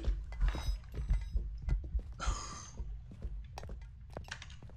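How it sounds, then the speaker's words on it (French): Scattered thuds, clatters and knocks of small objects thrown by a poltergeist ghost in the video game Phasmophobia, landing and tumbling, irregular and fairly close, with no voices. "Tous les petits bruits que vous avez entendus là, c'était les objets."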